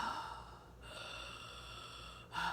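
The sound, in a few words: imitation of labored wheezing breathing from Kratom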